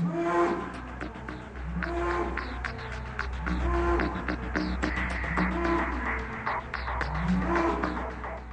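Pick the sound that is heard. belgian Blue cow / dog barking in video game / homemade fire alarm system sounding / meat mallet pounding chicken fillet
belgian Blue cow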